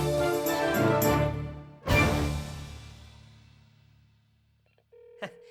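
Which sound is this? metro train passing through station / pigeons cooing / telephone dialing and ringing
telephone dialing and ringing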